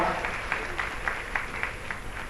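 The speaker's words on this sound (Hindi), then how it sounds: "जोरदार तालियों के साथ सभी माननीय अतिथियों का अभिनंदन स्वागत" Audience applause at a government pledge ceremony on alcohol prohibition in a hall at Gyan Bhawan, Patna, with a steady wash of clapping and faint crowd noise throughout, moderately loud and continuous for the whole stretch.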